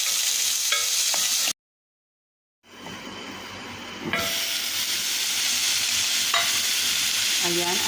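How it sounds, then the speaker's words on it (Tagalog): Carrots and potato are stirred in a cooking pot for vegetable and green pea soup, giving a steady sizzling, hissing scrape with a brief silent gap in the middle and no talking. "Ayan, paghahaluin lang natin."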